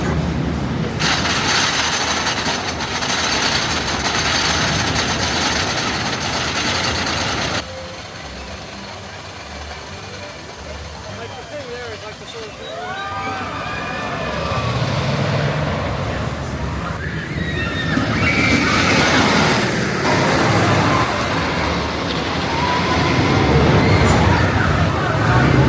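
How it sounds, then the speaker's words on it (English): The Thunderhead wooden roller coaster at Dollywood rumbles and clatters loudly throughout a long ride, with a sharp change in texture partway through and rising noise and shrieks toward the end. "That was a really, really good wooden coaster."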